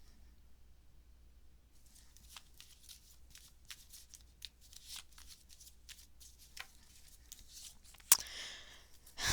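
Tarot cards are shuffled in a quiet room, with soft, repeated papery riffles and flicks at a close, gentle level, ending in a sharper slap as the deck is squared.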